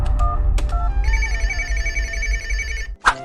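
A cartoon telephone rings with a steady electronic trill lasting about two seconds, loud and close over a low background hum, preceded by a few short tones and ending in a brief burst.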